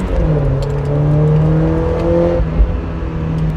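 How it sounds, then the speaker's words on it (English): Exhaust note of a Mk1 Mazda MX-5 fitted with a Cobalt exhaust, a loud, steady engine drone with harmonic tones that rise and settle while driving, heard alone without talk. "let me drop back, shut up, so we can enjoy the tones of this lovely exhaust."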